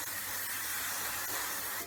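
A continuous hissing spray from an aerosol can, steady and close, lasting under two seconds with no pauses.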